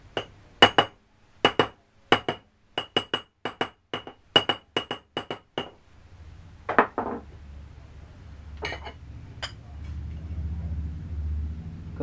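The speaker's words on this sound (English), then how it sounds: "so now I can use a normal hammer." A normal hammer strikes an old bearing race set on a sprag bearing from a 5HP18 automatic transmission in a backyard: about fifteen sharp metallic clinks in uneven quick bursts, then a pause, a few scattered knocks and a low rumble.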